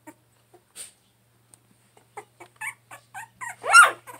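A mother dog whimpers and cries beside her 22-day-old puppies, wanting their snacks: soft scattered whines build into a run of short yelps and a louder whimpering cry near the end, close and alone.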